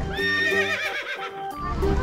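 A miniature pony neighs at close range in a continuous, wavering whinny that rises and falls for about two seconds.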